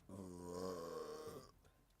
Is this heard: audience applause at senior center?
no